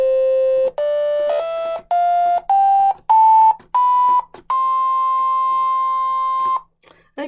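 Synthesized beeping tones play a rising sequence of separate pure notes, each step higher, ending in one long held tone, clean and loud with no talk.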